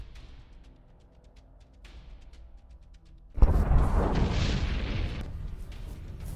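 Tank gunfire and exploding shells on a Ukrainian battlefield under Russian fire: quiet rumbling gives way to a sudden heavy boom, then a sustained loud roar and crackle of blast and debris that carries on to the end.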